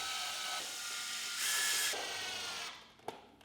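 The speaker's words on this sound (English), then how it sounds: "Now, reinstall the 4 Phillips screws." Phillips screws driven back into the fan cover of a Samsung freezer evaporator fan, with a steady ratcheting, mechanical whir for a few seconds, a brief louder burst midway and a sharp click near the end.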